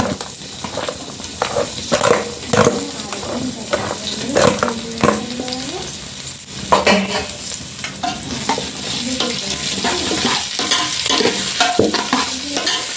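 Chopped onions fry in coconut oil over an outdoor wood-fired stove, a close hissing sizzle with irregular bursts of stirring and scraping, louder at first, then settling into a constant crackle.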